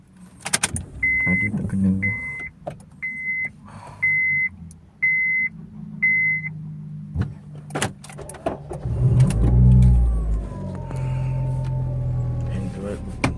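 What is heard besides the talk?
Honda Civic FD car being started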